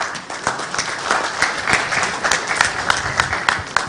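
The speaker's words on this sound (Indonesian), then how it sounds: "Tepuk tangan buat mereka." A crowd applauds continuously, dense clapping with a few sharper claps standing out, plus faint voices beneath.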